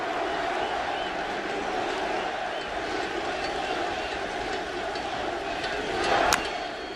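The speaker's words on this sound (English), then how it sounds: "Crowd's into it." Large crowd at a nearly sold-out USA vs Dominican Republic World Baseball Classic stadium game in 2017, giving a steady, dense roar of cheering that swells slightly near the end.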